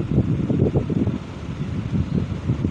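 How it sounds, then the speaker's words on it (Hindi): Sewing machine stitching thread onto fabric, a steady low mechanical whir with a fast rhythmic chatter running close and continuous throughout. "मशीन की मदद से सिलाई कर लेंगे"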